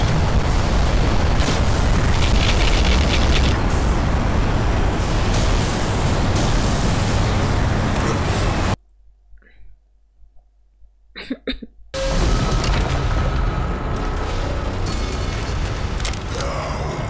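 A loud, rumbling explosion in Black Mesa: Xen, a long roaring blast filling the first half before abruptly dropping to near silence, followed by another sustained rumbling roar.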